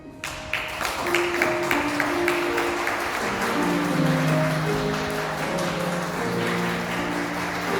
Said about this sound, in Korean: 입장하실 때 수고한 만큼 내빈 여러분들께 큰 박수 부탁드리도록 하겠고요